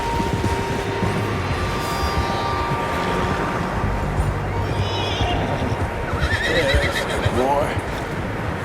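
Horses whinny and neigh in Red Dead Redemption 2, with hooves clip-clopping over a dense, steady ambient backdrop, the calls rising clearly several times near the end.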